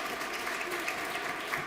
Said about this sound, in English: please join me in giving all of our finalists one more round of applause